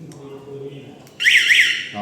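A 433 MHz voice sensor's alarm tone starts partway through, a bright warbling beep that rises and falls, loud over a low background hum.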